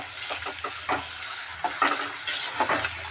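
A cauliflower curry mixture is stirred in a pan of hot oil, with sizzling and repeated scraping strokes of a spoon in short bursts, close by and with no talking.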